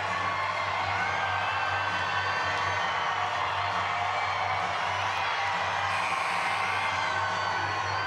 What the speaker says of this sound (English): the crowd getting into it a bit here